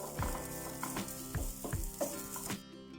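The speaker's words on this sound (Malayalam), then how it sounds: "ഇനി നമുക്കിതിലേക്ക് അല്പം തേങ്ങ ഇട്ട് കൊടുത്തിട്ട് ഒന്ന് റോസ്റ്റ് ചെയ്തെടുക്കണം." Grated coconut roasts in hot ghee in a pan, sizzling steadily while a spoon stirs with a few scraping knocks against the pan.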